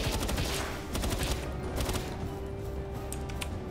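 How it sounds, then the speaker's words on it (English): Rapid assault rifle fire in the video game Palworld, with quick repeated bursts of shots, fairly quiet and steady throughout, with no talking. "Can't keep wasting assault rifle ammo, it's so expensive."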